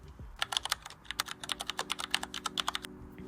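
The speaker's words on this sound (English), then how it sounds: "so I decided to clean my keyboard after a year of using it" A computer keyboard is being cleaned after a year of use, giving a rapid, irregular series of sharp plastic key clicks and clacks, close and fairly loud over a low steady hum.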